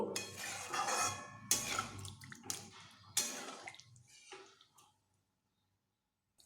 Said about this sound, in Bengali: আমি এখানে জল দিয়ে দিচ্ছি জল আমি ভালোভাবে এর সঙ্গে এইভাবে মিশিয়ে নেব